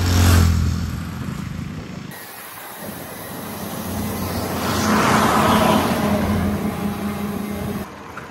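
Motorcycles and other traffic pass on a narrow road during a monsoon group ride to Malshej Ghat, a steady loud engine and wind roar that swells as a vehicle approaches, no talking.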